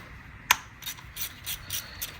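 A ratchet wrench undoes a size 10 hex nut on a Mazda 6 2.2 Skyactiv diesel engine: one sharp click followed by a run of faint, evenly spaced ratcheting clicks, close by.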